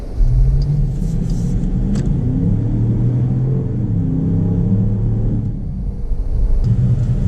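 A 2019 Jeep Grand Cherokee Summit with the 5.7-liter Hemi V8 pulls steadily under acceleration, a loud, continuous low engine rumble with rising harmonic tones, heard alone without talk.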